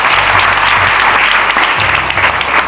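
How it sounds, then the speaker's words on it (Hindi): A church congregation claps together for the Lord during a Hindi sermon, a dense, steady wash of loud applause filling the room from start to finish while low musical tones hum underneath. "ताली बजाओ ना एक बार प्रभु के लिए"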